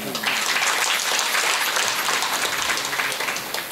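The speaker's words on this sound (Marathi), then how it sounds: "मागाच्या सुनांनी टाळ्या वाजवल्या." Daughters-in-law in a kirtan audience clap together, a dense, steady wash of applause that stays loud and even throughout without a break.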